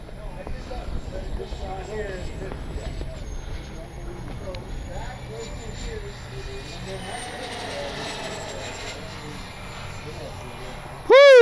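A Freewing A-10 twin-jet RC model accelerating down the runway for takeoff on a windy day, its electric ducted-fan whine steady and mid-distance throughout, with a voice talking over it and a sharp loud burst at the very end.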